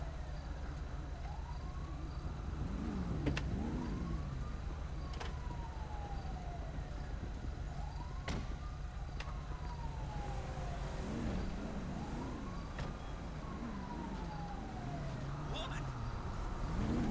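A wailing emergency vehicle siren on a street, its rising and falling sweeps repeating every few seconds over steady traffic rumble, moderately close and continuous throughout.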